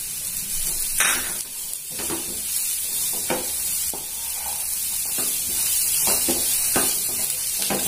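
Onions sizzling and frying in a pan for Tamil-style peanut masala sundal, a steady hiss with several sharp stirring scrapes and clinks throughout, fairly close and with no talking.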